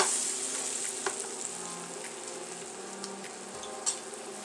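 A beef pot roast sears in a hot pan with a steady close sizzle and occasional spatula taps and scrapes. No voices are heard.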